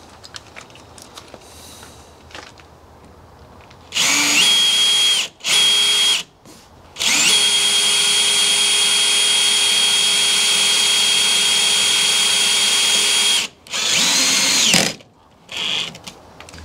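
A power drill drives self-tapping screws into fiber cement siding panels, loud whining bursts of several seconds each, one long run in the middle, separated by short silences, close and with no talk.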